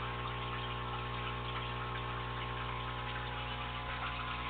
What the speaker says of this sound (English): Has a flexible air stone with a 2-port adjustable air pump.